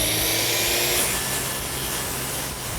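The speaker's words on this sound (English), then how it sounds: "we've got our plywood laid out, marked, ready to cut" Plywood laid across sawhorses is cut with a saw, giving a continuous rough, hissing rasp that stays steady and fairly close throughout, with no talking.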